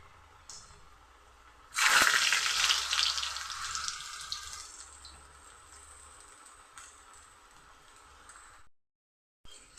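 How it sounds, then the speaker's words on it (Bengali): Chana dal sweet dumplings drop into oil on low heat and burst into a loud sizzle that gradually settles into a softer, steady hiss before briefly cutting out. "ভেজে নেব।"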